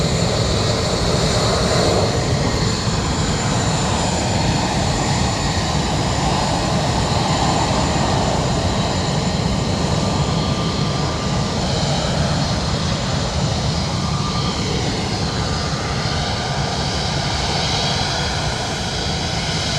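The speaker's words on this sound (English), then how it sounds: "EasyJet A319 taxi and pass." An EasyJet Airbus A319 taxis and passes at Luton Airport, its jet engines producing a steady, loud, broadband roar with a faint whine that holds for the full twenty seconds without talking.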